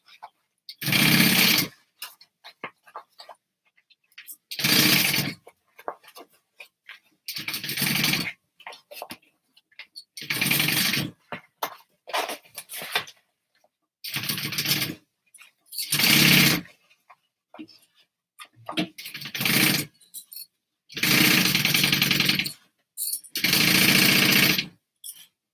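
A sewing machine stitches a handbag lining in about nine separate bursts of steady motor whir, each a second or two long, with short quiet gaps between runs.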